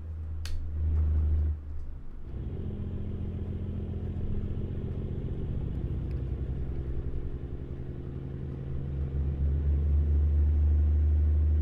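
Deep, steady engine rumble from an International 9900i truck in American Truck Simulator while it is backed into a parking spot, low and continuous with a brief clatter near the start.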